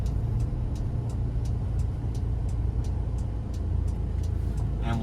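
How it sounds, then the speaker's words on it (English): Steady, even ticking of a turn signal inside a 1997 Toyota Land Cruiser Prado with a 3.0 diesel 1KZ-TE engine, clicking about three times a second over a constant low engine rumble. "All right, turn signals are working."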